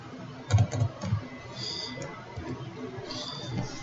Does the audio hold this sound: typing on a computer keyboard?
yes